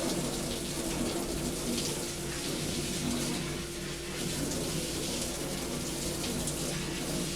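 Coolant washes chips down inside a Haas Mini Mill CNC machine, a constant dense rush of spraying and splashing liquid with a low machine hum beneath, steady and unbroken throughout.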